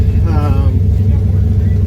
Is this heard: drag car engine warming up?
yes